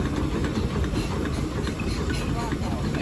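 A Fowler steam traction engine rolls in during a big steam parade at the Bedfordshire steam rally, giving a steady rumbling, chuffing mechanical drone with rattling clanks amid outdoor crowd noise, fairly loud and continuous.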